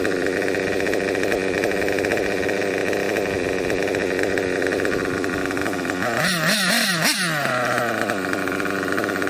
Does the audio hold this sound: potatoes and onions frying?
no